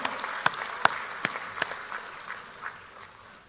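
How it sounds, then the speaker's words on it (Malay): Scattered claps ring out in a quiet hall during a party assembly address, a handful of sharp hand strikes spaced apart that gradually thin and fade. "Tepukan gemuruh untuk yang berada di bahagian-bahagian."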